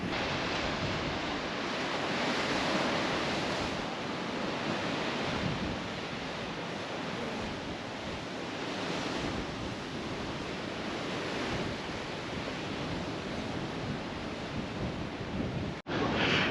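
Steady roar of ocean surf crashing below cliffs on the Coogee to Bondi coastal walk in Sydney, a continuous broadband wash with gusty wind noise, no voices.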